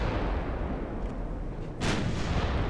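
Naval 9-inch guns fire in the Ultimate Admiral: Dreadnoughts video game, heavy booming blasts over a continuous roar of battle noise, with one sharp report standing out near the end.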